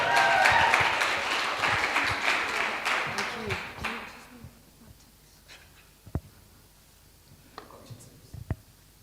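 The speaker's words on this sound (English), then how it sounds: "Let's give her a round of applause." An audience at the MAC Live 2021 event applauds loudly for several seconds, the clapping fading out, then a few scattered handling knocks and faint murmurs follow in a quieter room.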